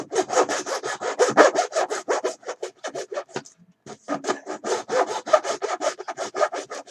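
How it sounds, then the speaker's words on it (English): Repeated back-and-forth strokes of sanding on a plastic vacuform kit former for a Hawker Siddeley Nimrod model, steady and close, with a brief pause midway before the rhythmic rasping resumes. "get that former all sanded real well"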